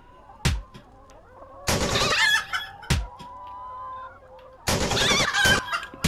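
Loud, close chickens from the video game Chicken Range, with sharp rooster crows and bursts of excited clucking and squawking that come and go in several rounds.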